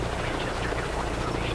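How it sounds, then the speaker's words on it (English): A helicopter flies in Microsoft Flight Simulator 2024 on a windy day, giving a steady, broadband rotor-and-wind roar that is continuous and close. "this helicopter is very windy out"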